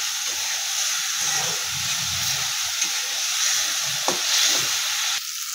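Spice paste for a village-style banana flower and chickpea curry fries in a pan, giving a constant loud sizzling hiss with a few soft stirring knocks underneath.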